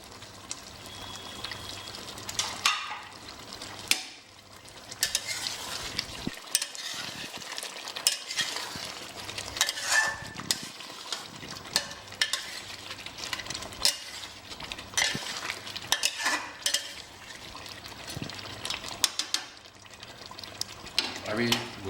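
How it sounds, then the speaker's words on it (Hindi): Masala and desi chicken fry in a pot for Banjara-style chicken curry, with a soft sizzle under repeated scraping and clinking stirs of a spoon, and occasional faint speech. "इसमें मसाला भी बढ़िया भुन रहा है और हमारा चिकन जो है देसी ये भी बढ़िया टेंडर हो जाएगा"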